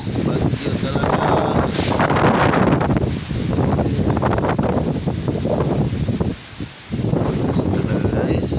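Powerful Typhoon Rolly gusts roar close and loud around trees and rooftops in a sustained rushing wash, briefly easing near the end before surging again, with a voice under the din.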